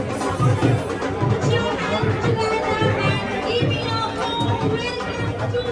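Dense babble of a crowd chattering at a fan meetup, many overlapping voices close by with a steady, pulsing hum of talk throughout.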